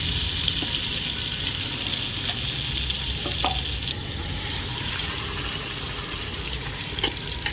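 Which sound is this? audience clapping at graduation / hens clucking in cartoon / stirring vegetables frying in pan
stirring vegetables frying in pan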